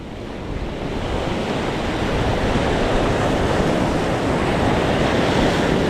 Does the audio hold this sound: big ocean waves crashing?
yes